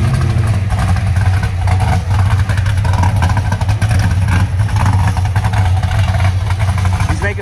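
A car engine idles loudly and close by with a rough, throbbing exhaust note and small pops, running steadily outside a restaurant in South Elgin.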